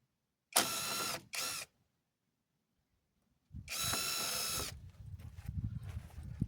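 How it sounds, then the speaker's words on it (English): A power drill pre-drilling thin cedar siding boards, with two short close whirring bursts, a pause, then a longer run as the bit bites into the wood. "So let's pre-drill these."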